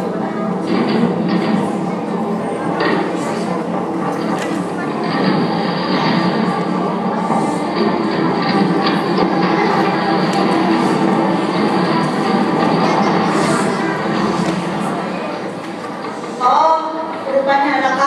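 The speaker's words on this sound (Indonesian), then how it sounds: "Kereta pun berjalan." A train rumbles steadily along the rails with a continuous mechanical roar and faint rhythmic clatter, ending with a brief louder clank.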